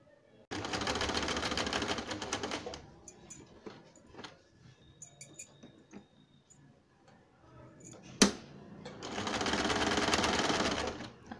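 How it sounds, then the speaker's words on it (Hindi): A sewing machine stitches the side seams of a gown cut from an old saree in two loud, steady runs, with quiet handling and a sharp click in the pause between them. "साइड साइड में सिलाई लगानी है और मोटे बखिये से सिलाई लगानी है"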